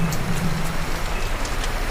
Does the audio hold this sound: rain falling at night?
yes